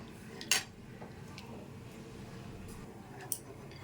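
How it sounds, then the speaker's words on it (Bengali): Milk being stirred with a utensil in a pot as it boils down for chhana malai sandesh; two sharp metallic clinks ring out, far apart, against a faint, quiet background. "দুধটাকে অনবরত নেড়ে যেতে হবে, নাহলে তলায় লেগে যাবে।"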